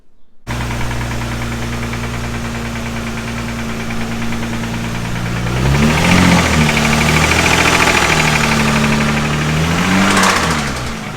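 A Nissan 350Z engine idles roughly with an audible knock after a motor swap, then revs up and surges unevenly before settling, loud and close with no talking.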